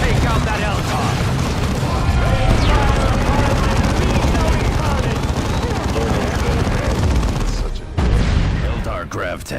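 Loud, dense battlefield barrage from the Eldar Fire Prism grav tank's cannon in Dawn of War 2, heavy booms and gunfire blending into a continuous roar, with a brief drop near the end before the blasts resume.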